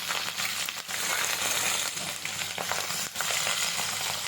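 Whole dried red chillies and green chillies fry in hot oil with urad dal for Andhra-style tomato thokku, giving a steady, close sizzle with a crackly texture that runs continuously without a break.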